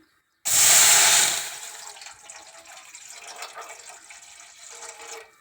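Water gushes loudly into a pot for about a second, then settles into a softer, continuing splash and trickle, as about a quarter litre is added for sugar syrup.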